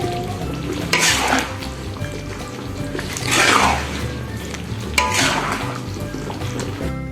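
Beef rendang curry is stirred in a large pot while the broth reduces, with a continuous bubbling sizzle and scraping strokes of the spoon surging in waves, loud and close.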